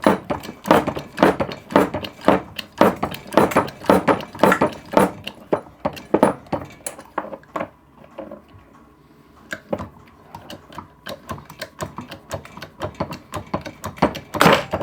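A Vevor 15-ton hydraulic hole punch being pumped to drive a 2-inch hole through 2mm steel, a fast run of sharp, close metallic clicks and ratcheting knocks that pauses briefly midway and then resumes.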